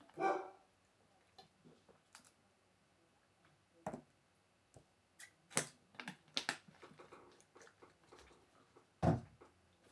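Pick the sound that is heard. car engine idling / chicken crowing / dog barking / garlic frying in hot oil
dog barking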